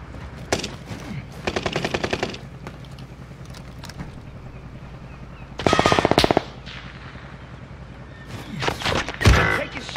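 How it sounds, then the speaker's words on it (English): Gunfire in Call of Duty Warzone on Rebirth Island: several short, loud machine-gun bursts of rapid shots separated by quieter gaps, with a heavier burst near the middle and another close to the end. "People sniping at me."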